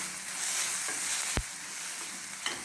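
Food cooks over low heat in a pan for white sauce pasta with a constant broad sizzle, broken by a single sharp knock of the stirring utensil and a couple of faint scrapes, close and steady.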